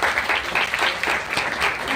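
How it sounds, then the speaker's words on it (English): Audience applause welcoming a speaker onto the stage at a Google startup event, a steady wash of many hands clapping that carries evenly through the whole moment. "So please welcome her with a round of applause."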